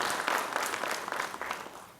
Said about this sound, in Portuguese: essa central merece efetivamente aplausos para aqueles que construíram e para os que continuam construindo essa central